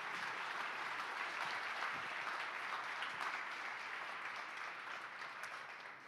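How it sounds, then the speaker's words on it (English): An audience at a district community event applauds volunteers who served 50 hours, a steady wash of clapping from many hands that holds for several seconds and tapers slightly at the end. "Let's give a round of applause for all of our 50-hour volunteers."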